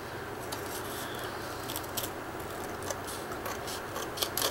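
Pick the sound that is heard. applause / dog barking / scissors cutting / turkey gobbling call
scissors cutting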